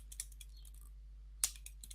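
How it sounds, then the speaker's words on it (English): A command is typed on a computer keyboard in a Linux terminal: a few light, scattered key taps, then one sharper press and a couple more clicks, close and quiet over a low electrical hum. "Let's type in update db. Excellent. And let's type in locate again."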